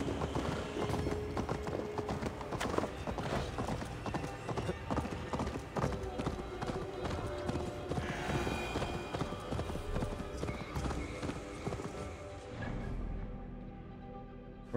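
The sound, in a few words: horse galloping in video game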